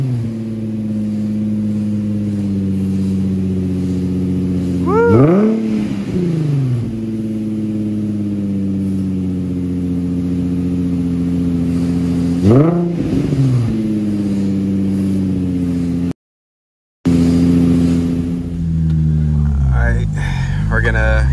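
A Nissan 350Z fitted with a Tomei exhaust and Injen intake idles loudly and close by, with two sharp revs that rise and fall back to idle, then a final rev after a brief dropout.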